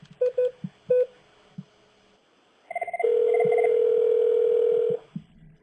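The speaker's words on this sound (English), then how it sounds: "And so now the call is going back out, and you can see it ringing" An outgoing phone call on a Cisco CUCM mobile voice access system: a few dialing tones and short beeps, then a loud, steady ringback tone held for about two seconds before cutting off, with faint quiet sounds around it.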